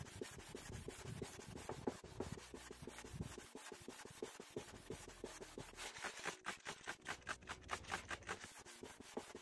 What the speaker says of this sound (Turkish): Bakın sadece zımparayla bile yavaş yavaş sonuç aldığımızı görüyorsunuz arkadaşlar.